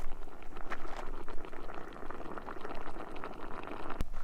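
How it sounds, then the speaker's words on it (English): A mud pot on a volcano boils with continuous bubbling, gurgling and popping, close and steady, with no voices. "I walked right past this mud pot."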